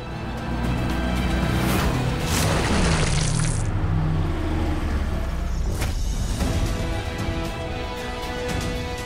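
A vehicle rushes past close by in a street scene, its noise swelling and sweeping down in pitch before fading, followed by a brief hiss like an air brake, with steady traffic noise underneath.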